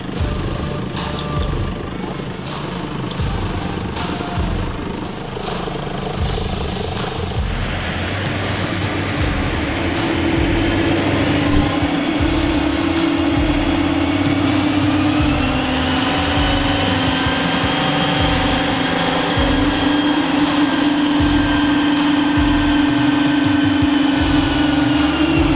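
Seat Leon FR engine running on a dynamometer, a steady loud drone with a rising tone that climbs and holds as revs build, continuous through the whole stretch with no talk.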